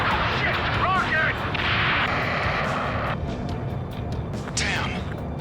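A rocket blast and heavy explosive rumble in the Ace Combat 7 flight game, thick low booming under radio chatter and shouted voices, with a sharp burst of crackling debris near the end.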